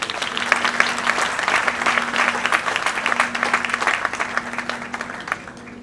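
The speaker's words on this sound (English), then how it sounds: "Please let's clap for her." Audience applause for a child award winner at a kids' awards ceremony, a dense steady wash of many hands clapping for about six seconds, fairly loud and close, with a faint steady hum underneath.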